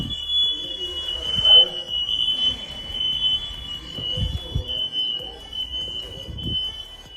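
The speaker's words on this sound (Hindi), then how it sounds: "सुबह-सुबह ही फायर अलार्म बज गया" An early-morning fire alarm gives one steady high electronic tone for the whole stretch, with a voice speaking quietly underneath and low thumps and movement nearby.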